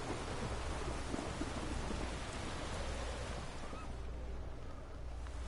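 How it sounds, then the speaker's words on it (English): A thunderstorm in The Witcher 3 video game brings a dense wash of falling rain over a deep, continuous rumble, easing slightly toward the end. "A storm, damn it."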